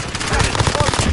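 Rapid gunfire in a video game shootout, fired from inside a house, a loud dense burst of shots under excited voices.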